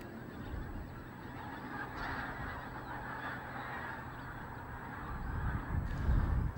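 A flock of geese leaving a loch honks continuously from a distance, a dense chorus of overlapping calls that grows somewhat louder near the end, with no voices.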